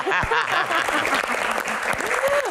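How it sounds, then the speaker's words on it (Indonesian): Audience applause at an Indonesian Q&A event, a short burst of clapping with voices and other crowd noise mixed through it. "Oke, tepuk tangan."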